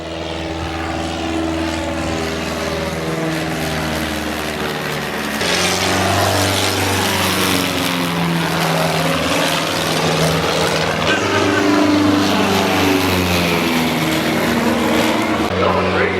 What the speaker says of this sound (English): they gave us a flyby. They flew down the main straight